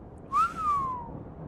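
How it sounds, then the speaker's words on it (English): A single whistle from a pony character rises quickly, then glides slowly downward in one clear, bright tone lasting about a second, heard alone against faint background noise. "I heard a pony behind me whistle"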